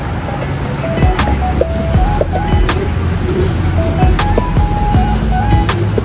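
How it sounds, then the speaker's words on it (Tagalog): Road traffic rolls along a riverside road in Marikina during a river overflow. Engines hum steadily, with tonal horn-like notes and passing vehicle sounds throughout, fairly loud and close. "Traffic."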